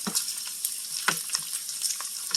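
Bacon strips frying in a pan on a stovetop, a steady close crackling sizzle with scattered sharp pops and spits of fat throughout, no voices.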